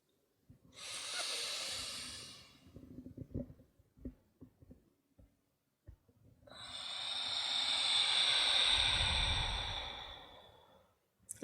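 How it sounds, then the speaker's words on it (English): Slow nasal breathing during a restorative yoga session, two long audible breaths, an inhale and then a fuller, louder exhale, with quiet rustling between them and no talk. "Breathing only through the nose."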